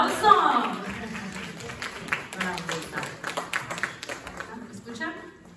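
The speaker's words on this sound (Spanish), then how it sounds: "¡Un aplauso!" Audience applause at a press conference breaks out after a voice, a scattered patter of clapping from a modest crowd that swells briefly and then thins out into a few separate claps.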